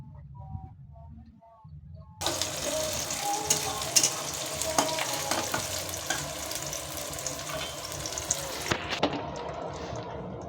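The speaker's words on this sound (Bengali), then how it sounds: "আরেক পাশে মাংসটা আমি রান্না করে ফেলছিলাম" Meat cooking in a pan over an open fire outdoors, a steady loud sizzle starting abruptly and running several seconds with occasional clatters, then cutting off near the end; no talk.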